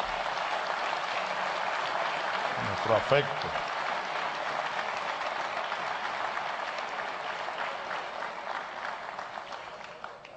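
A large assembly audience applauds Nicolás during a speech at the Venezuelan National Assembly, producing dense, loud, sustained clapping throughout, with a few brief spoken words heard under it.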